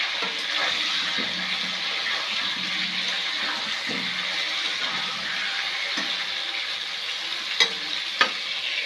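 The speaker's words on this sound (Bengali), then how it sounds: "এবার একটু নাড়তে হবে।" Mutton curry with potatoes being stirred in a pan, a continuous moderate sizzle broken by soft scrapes and knocks of the spoon, with two sharp clacks near the end.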